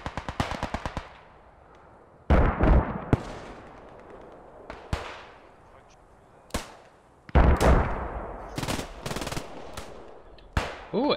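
Gunfire in the World War II shooter Post Scriptum: a quick rattle of machine gun rounds opens the clip, then sharp single shots and heavier bursts at varying distances are scattered through it, with no one talking.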